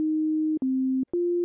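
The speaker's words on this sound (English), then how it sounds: "we're going to start off a little simpler with a sine wave," A pure sine wave tone from a synthesizer, clean and steady, played as three sustained notes at slightly different pitches with short gaps between them.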